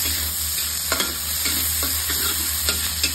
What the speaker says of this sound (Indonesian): Ini bumbu goreng apa tempe deh ini.